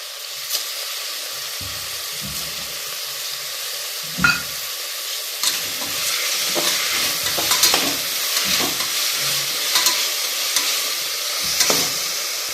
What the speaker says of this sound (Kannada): ಅದೆಲ್ಲ ಟೊಮೊಟೊ ಎಲ್ಲ ಚೆನ್ನಾಗಿ ಸುಂಡಬೇಕು. ಅಲ್ಲಿವರೆಗೂ ಚೆನ್ನಾಗಿ ಫ್ರೈ ಮಾಡಿ.